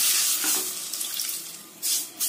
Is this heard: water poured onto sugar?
yes